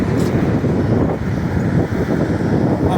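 Wind buffeting the microphone during a bike ride over a highway on a windy day, a loud constant rumble with faint traffic hum beneath.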